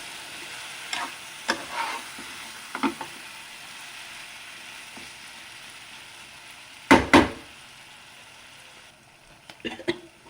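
Paneer tikka fries with a soft, steady sizzle in a pan, broken by occasional spatula scrapes and one louder pair of clatters midway.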